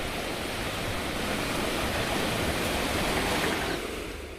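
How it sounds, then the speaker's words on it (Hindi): Fast-flowing floodwater in Rajasthan rushes in a steady, loud, unbroken roar of broadband turbulence that holds evenly across the whole stretch, close and continuous with no voices over it. "जहां तक नजर जाती है सिर्फ और सिर्फ तेज रफ्तार बहता हुआ पानी ही नजर आता है।"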